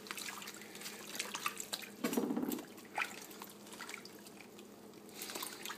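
Quiet running water and drips in a sink filled with hot water for soaking corn husks, with a brief louder splash or gush in the middle and soft trickling around it.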